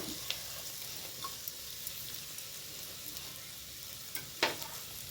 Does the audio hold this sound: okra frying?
yes